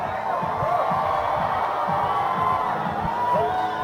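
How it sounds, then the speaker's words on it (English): A crowd cheers and whoops loudly at an outdoor deep water solo climbing competition, a continuous roar of shouts and high yells with voices mixed throughout. "Crowd's going nuts."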